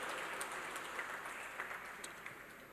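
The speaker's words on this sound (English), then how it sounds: "A big round of applause, my friends" A crowd at a UPSC exam event gives a round of applause for a mentor, faint and somewhat distant clapping with scattered sharper claps that slowly tapers off.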